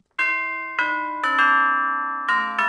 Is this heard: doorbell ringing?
yes